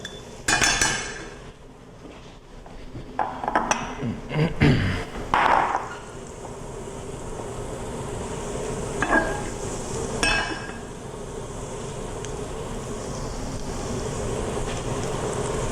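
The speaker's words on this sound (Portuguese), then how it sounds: "Então refoga um pouquinho o alho." Garlic sautéing in a pan on a home stove: metal utensil clinks and scrapes at first, then a steady, even sizzle continues on its own.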